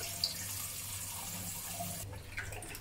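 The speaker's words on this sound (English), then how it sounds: "Change the water a few times until the water runs clear" Tap water runs steadily into a kitchen sink while a raw whole chicken is rinsed for Chinese herbal soup, a soft, close, continuous stream with a brief shift near the end, no talking.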